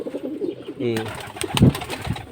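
Pigeons coo softly close by, a few low throaty calls mixed with brief wing flutters and background rustling.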